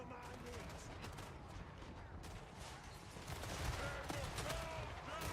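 Massed gunfire and missile volleys from dozens of units in a Warhammer fantasy strategy battle, a dense continuous crackle of shots and impacts that swells louder toward the end.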